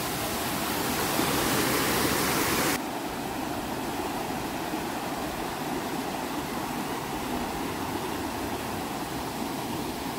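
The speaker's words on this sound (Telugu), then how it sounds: "ఇదిగోండి వాటర్ ఇక్కడ నుండి ఫ్లో అవుతుంది." Waterfall at Gandahati in Odisha, water pouring over rocks, a steady dense roar that continues without a break and drops slightly in brightness partway through.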